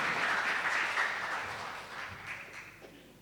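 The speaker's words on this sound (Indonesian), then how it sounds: "Tepuk tangan yang meriah untuk kepengurusan ini." An audience applauds newly installed Partai Ummat officials at a West Papua provincial inauguration, a full round of clapping that starts strong and gradually tapers off.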